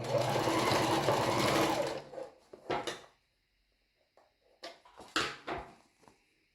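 A sewing machine running a straight seam along the edge of a bra cup whirs steadily for about two seconds, then stops, followed by a few soft clicks and handling knocks.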